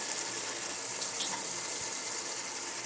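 Water runs steadily into soaking rice for chicken biryani, a continuous even hiss and gurgle at moderate-to-faint level with no talk over it.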